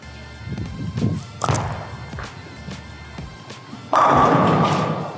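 A bowling ball is released onto a lane at a bowling alley, with a muffled thud early on, then a loud, steady rolling rumble that sets in later and carries to the end, with no voices.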